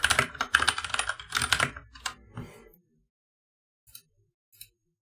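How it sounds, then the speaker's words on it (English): Dense, rapid computer keyboard typing that runs loud and close for about two and a half seconds, then stops, leaving silence broken by two isolated soft key taps. "I'm typing up the form for you guys."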